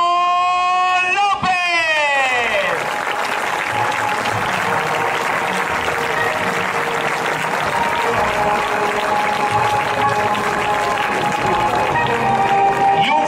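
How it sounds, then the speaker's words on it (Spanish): Audience applause fills a futsal club's team presentation, steady dense clapping from a crowd that holds throughout, with a brief tonal sound near the start. "Y un fuerte aplauso a un jugador que no ha podido venir, Óscar Cano."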